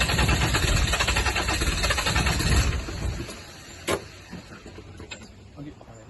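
A Land Rover 300tdi diesel engine cranks loudly for about three seconds without starting, then falls quiet apart from a short clunk and faint rattles, heard as slightly tinny recorded playback.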